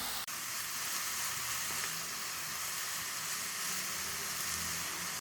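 Ingredients for dal palak sauté in a pan over a low flame, giving a steady, close, broadband sizzle that runs unbroken before cutting off at the end.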